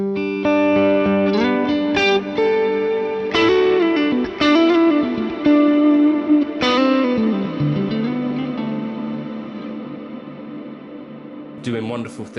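An electric guitar played through a Fractal amp modeler with delay and reverb rings out in sustained melodic notes and bends, trailing into echoing decays, loud and clear.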